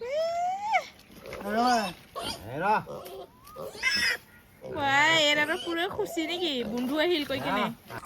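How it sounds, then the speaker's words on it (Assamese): A large farm pig grunts and squeals in several bursts over about eight seconds, close and fairly loud, with people talking throughout. "আমাৰ ডাঙৰ গাহৰি, এতিয়া আমি গাহৰি কৰি দিম একদম।"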